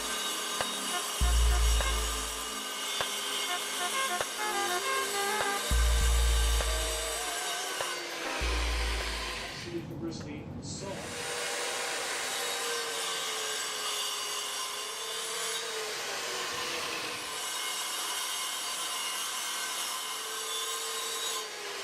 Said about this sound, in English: I used a mini track saw for my circular saw